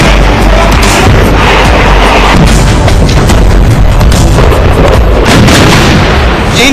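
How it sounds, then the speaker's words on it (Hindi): Chinese battle tanks fire shells during a high-altitude military exercise in Tibet, a loud, dense barrage of booming blasts and rumble that fills the whole stretch without pause. "चीन ने भारत को डराने के लिए तिब्बत में इसी टैंक से ताबड़तोड़ गोले बरसाए।"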